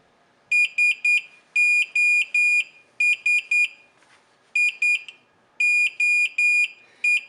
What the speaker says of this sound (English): And it's going to start beeping.